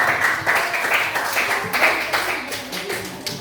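A classroom of junior high students at an Indonesian school claps together in a lively, uneven burst of hand claps, fairly close and fading slightly toward the end, with faint voices mixed in.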